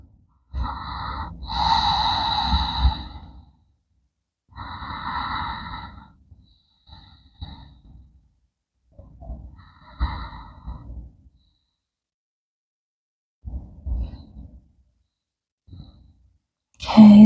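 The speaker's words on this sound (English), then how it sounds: "Just take a few deep breaths." During a seated yoga forward fold, a person takes several slow, deep, audible breaths, long close inhales and exhales separated by quiet pauses, fading softer toward the end.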